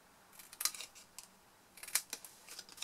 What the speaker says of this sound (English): cut on the little four corners our little wedges